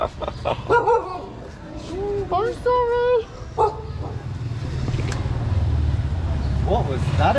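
A dog gives a few sharp barks at a busy Nepal market, woofing near and loud between bursts of people talking, with steady traffic rumble and crowd noise underneath.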